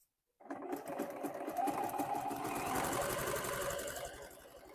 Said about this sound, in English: Make another buttonhole right on top of the other one.